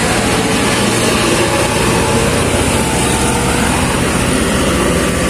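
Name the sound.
motorcycle engine running smoothly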